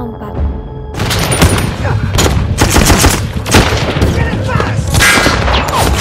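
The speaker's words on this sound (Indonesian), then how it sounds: "tak lama kemudian terdengar suara tembakan" A loud gunfire sound effect erupts in a shootout with pirates: rapid bursts of automatic fire and heavy booming shots crowd close together after a short quieter lead-in, continuing in dense volleys to the end.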